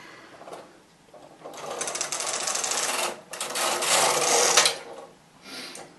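A knitting machine carriage pushed from left to right on the slip setting, a close rasping, whirring slide with a brief pause between two longer passes, quiet hum before and after.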